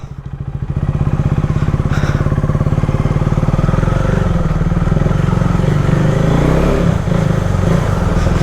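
A KTM Duke motorcycle with a barrel exhaust idles and revs loudly up close, its throbbing, rapidly pulsing exhaust beat rising after a quiet start and then holding steady and rough throughout.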